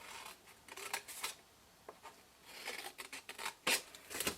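Scissors cut through paper card for an envelope punch board basket in soft, intermittent rasping snips that come in uneven clusters, close and quiet, with no voices.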